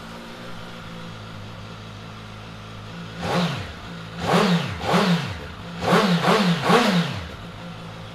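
A 2017 Suzuki GSX-S1000F ABS sport-touring motorcycle with its standard exhaust idles with a low, even hum, then gives five sharp throttle blips, the last few in quick succession, each rev rising and falling back to idle.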